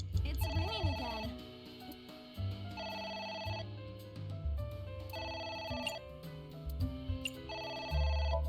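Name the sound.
telephone ringing in a video game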